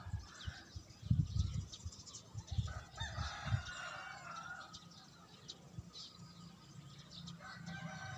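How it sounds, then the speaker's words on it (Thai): Faint, distant rooster crowing rises over low rumbling and scattered noises, then fades into quiet outdoor ambience. "เสียงไก่ขัน"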